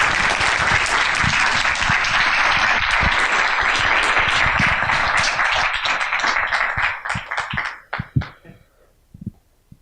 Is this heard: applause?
yes